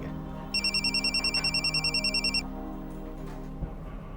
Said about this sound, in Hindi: 1 मिनट, फोन आ गया।